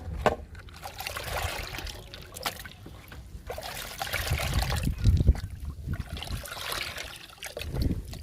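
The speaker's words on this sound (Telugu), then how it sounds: "పండ్ల మొక్కలకి అరికెలతో పాటు మునగాకు లిక్విడ్ని కూడా ఇచ్చేద్దాము." Moringa leaf liquid is poured from a container onto potted fruit plants, producing a close, uneven trickle and splash that swells and fades over several seconds.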